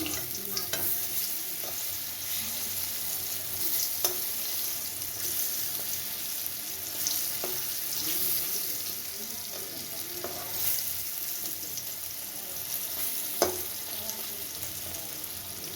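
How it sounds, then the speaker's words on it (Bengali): Green banana koftas frying in oil, a continuous bubbling sizzle with occasional scrapes and clicks of a utensil as the pieces are turned in the pan. "দেখুন আমার কোপ্তার একটা পিস ভাজা হয়ে গেছে। আমি আস্তে করে এগুলোকে উল্টে দিচ্ছি।"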